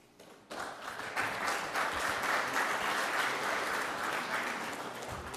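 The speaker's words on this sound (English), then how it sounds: "Let's give her a nice round of applause." Audience applause at a Topeka community safety meeting honoring a character award recipient: steady, dense clapping that starts abruptly and holds at an even level for several seconds, moderately close, with no talking.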